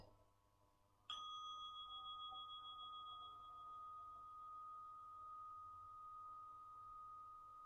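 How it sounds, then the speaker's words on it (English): A single bell is struck once and its clear tone rings on, slowly fading over several seconds in an otherwise quiet room. "We'll hear the bell to start and then the chimes at the end."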